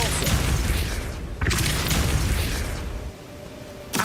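A Depulso spell blast in the Hogwarts Legacy video game, two loud booming bursts with a deep rumbling tail, the second followed by a brief fading whoosh and a sharp pop at the end.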